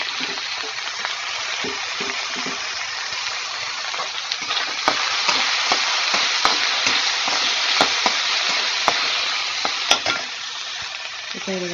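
Tomatoes and green chilli sauté in a pan for kothu chapati, giving a loud, continuous sizzle close by, broken by sharp ticks of a spoon stirring.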